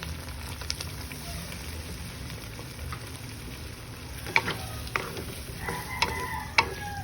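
Egg and hotdog in sauce simmering in a pan, giving a steady soft bubbling sizzle with a few sharper clinks near the end, with no one talking.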